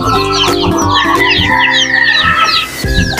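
Native chickens and their chicks cluck and peep loudly and close by, with overlapping calls and high chirps repeating throughout.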